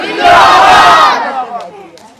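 A large crowd at an Islamic religious sermon gathering in Bangladesh roars Allahu Akbar in unison in answer to the takbir call, one loud sustained collective shout that swells and then fades away.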